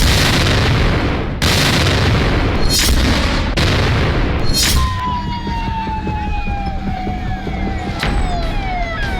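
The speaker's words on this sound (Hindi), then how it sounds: "धमाका हुआ" A loud blast at a firecracker factory in Harda, a sharp broadband burst, followed by continuous roaring rumble and a siren-like whine wailing over crackling debris and noise.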